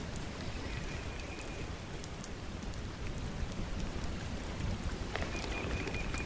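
Steady rain patters on the water and boat surface throughout while bass fishing ahead of a lightning storm, a dense continuous hiss with a faint tone now and then.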